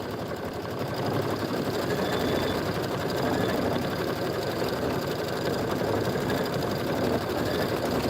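An embroidery machine stitches in the ditch along a border seam of a bunny-themed bench pillow, a steady, close, fast mechanical whir and needle chatter running without pause.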